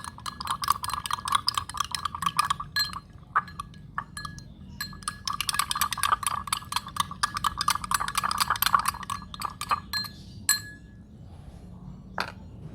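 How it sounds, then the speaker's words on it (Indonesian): A spoon stirring a flour and water mixture in a glass gives repeated light clinks and taps against the glass, steady through most of the stretch and then thinning out near the end, with no talking. "ketika kita membuat campuran dari tepung dengan air, ini kita aduk."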